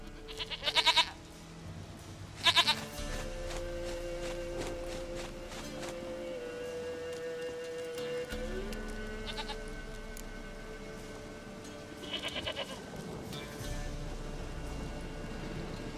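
A goat in The Witcher 3 video game bleats in a few short, loud calls, two close together early and another later, over a quiet ambient game background.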